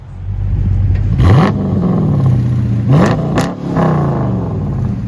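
A 2018 Dodge Charger R/T's 5.7L HEMI V8 with Flowmaster Flow FX dual exhaust idles loudly and deeply, then barks through several sharp revs, reaching 107 decibels, before settling back to a throaty idle.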